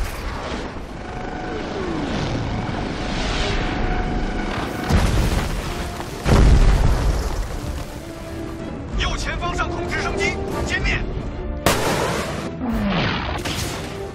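Heavy artillery fire and explosions boom through an action movie battle scene, with deep blasts and rumbling aircraft or engine noise swelling and fading as a voice speaks over the din.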